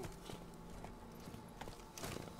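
Horse hooves clop at a walk in The Witcher 3, quiet and steady with a few louder steps near the end.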